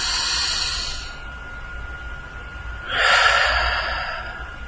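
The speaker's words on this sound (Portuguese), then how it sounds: "Toma uma respiração profunda agora." A person takes a long, deep breath, with an audible airy inhale followed by a second breathy swell. It is close and alone, with no talk.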